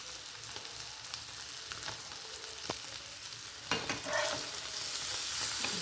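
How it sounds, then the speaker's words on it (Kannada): Paneer and spice powder fry in ghee with a continuous bright sizzle and hiss, punctuated by stirring scrapes and small clicks, growing louder toward the end. "ಸ್ವಲ್ಪ ಫ್ರೈ ಆಗಲಿ. ಸ್ವಲ್ಪ ಉರಿ ಜಾಸ್ತಿ ಮಾಡೋಣ"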